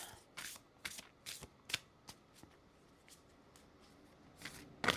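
A deck of cards shuffled before pulling one: a handful of quick, close riffle strokes in an uneven rhythm, fading into quiet room tone, with a final burst at the end.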